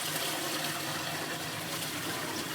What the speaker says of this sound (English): you want to flush the toilet